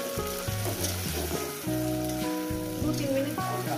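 A spice paste, loosened with water used to rinse the spice bowl, sizzles while being stir-fried for a fish and potato curry; a soft hiss runs under prominent background music.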